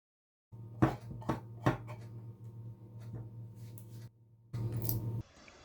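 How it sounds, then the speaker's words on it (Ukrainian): Fresh herbs are chopped on a board, heard as several close knife knocks and thuds over a low hum. A denser burst of rapid chopping comes near the end, and no one talks. "Подрібнюємо зелень."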